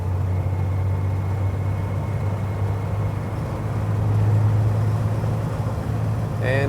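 A 1956 Chevy Deluxe Cab pickup drives along and accelerates in third gear, its engine giving a steady, loud low drone with road rumble throughout, swelling slightly near the end.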